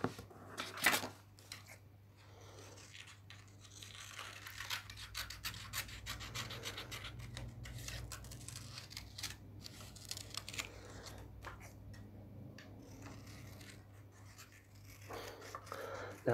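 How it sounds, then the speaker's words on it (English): Quiet, close scissors cutting paper, a long run of soft snipping and rasping strokes at a steady working pace. "So I'll grab my scissors and cut my sheep out."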